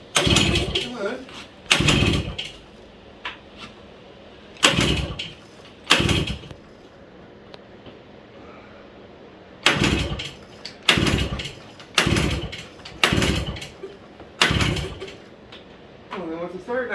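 An old small engine, unused for over ten years, is cranked repeatedly in cold weather, giving short bursts of rough turning separated by pauses, with a person speaking nearby.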